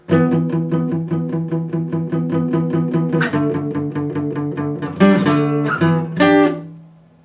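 An electric guitar plays a song's verse riff at full tempo, a fast steady stream of repeated picked notes and chords, clear and close with no voices, ending in a sustained chord that rings out.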